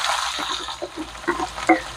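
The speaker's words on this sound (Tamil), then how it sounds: "இப்போ வெங்காயத்தை போட்டுங்க." Onions fry in a pan for a chicken liver pepper dish, a soft steady sizzle close by with a few light stirring scrapes.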